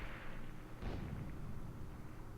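A tank in a World War II Advanced Squad Leader board-game mod fires its main gun and machine guns, a dull low boom around one second over a steady rumbling mechanical bed, quiet and muffled.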